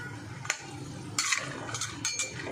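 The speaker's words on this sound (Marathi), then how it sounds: "हे बदाम आपण बघा चांगला आवाज येतो याचा बदामाचा." Almonds roasting in ghee in a pan on a low flame, stirred with a utensil: close, intermittent clinks and scrapes with a few brighter rattling bursts over a soft background.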